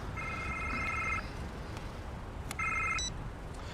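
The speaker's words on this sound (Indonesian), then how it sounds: "James pun tiba-tiba mendapat telepon yang isinya tugas baru untuk James." A telephone rings in a film scene, two electronic trilling rings separated by a gap, moderately loud over a steady background hiss, with no talking.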